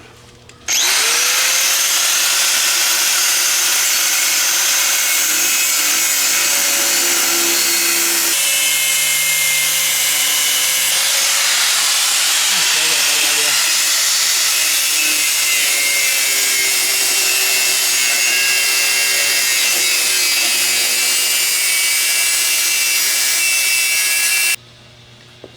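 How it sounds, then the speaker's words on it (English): A grinder cutting into metal on a 6.7 Powerstroke diesel truck, a loud, continuous high-pitched whine and grinding that runs unbroken for more than twenty seconds before stopping abruptly. "We need a bigger grinder."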